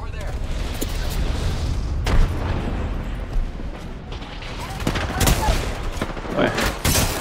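Gunfire in the video game Apex Legends, with loud bursts of shots and booming impacts over a dense, busy mix while a player talks excitedly throughout.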